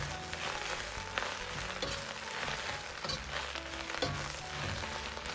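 Napa cabbage stir-fried in a hot wok over high heat, a steady dense sizzle and crackle of frying with scraping stirs and occasional clatter, continuous and close with no talk.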